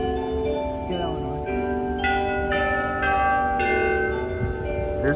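Church bells at St Mark's Catholic Church in Brooklyn ring the first quarter-hour chime at 7 PM, several sustained, ringing strikes overlapping into a steady resonant wash, heard fairly close with faint outdoor background.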